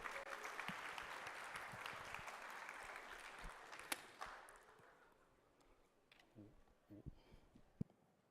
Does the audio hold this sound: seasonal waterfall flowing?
no